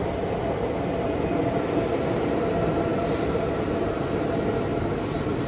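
Loud, steady rumble and clatter of a double-deck train at Winterthur station, continuous and close, with a constant broadband roar throughout.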